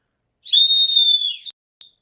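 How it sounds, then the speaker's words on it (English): A small plastic survival whistle gives one shrill, steady blast lasting about a second, followed by a tiny short chirp, loud and close with silence around it. "A whistle."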